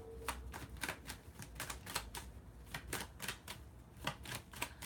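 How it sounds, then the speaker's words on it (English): Tarot cards being shuffled hard, a rapid run of crisp, close riffling snaps and slaps repeating in quick bursts, with no voice over them. "I shuffle the shit out of these cards"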